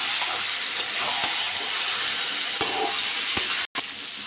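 Chicken pieces sizzle and fry in a pan while being stirred, a steady close hiss of hot oil broken by a few sharp scrapes of the spoon against the pan.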